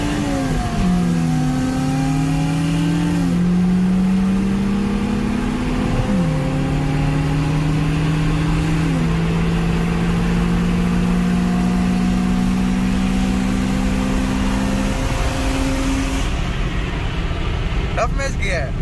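A Toyota Camry 2.4 with a manual gearbox revs repeatedly at a workshop, its engine pitch climbing and holding in several long, loud sweeps, with voices talking over it.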